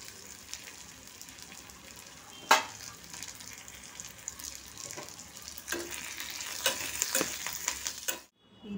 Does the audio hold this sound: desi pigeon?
no